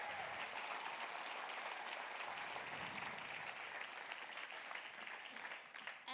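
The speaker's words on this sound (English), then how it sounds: "Another round of applause for Kai." At a plenary session an audience applauds a performer with sustained, even clapping that fills the room, then tapers off slightly near the end.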